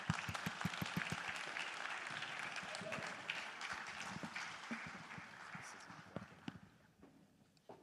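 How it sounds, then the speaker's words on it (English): Conference audience applause, a dense, close clapping crowd that starts loud and gradually thins and fades, with a voice speaking over it. "Delegates, let's put our hands together for them."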